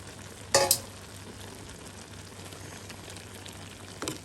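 Snake beans and jackfruit seeds simmering in a pan, a soft steady bubbling and faint sizzle, with two brief louder clatters near the start and end.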